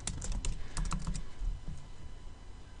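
Quick bursts of typing on a computer keyboard while renaming a layer in Adobe Photoshop CS6, close-up key clatter in short clusters with brief pauses, no voices.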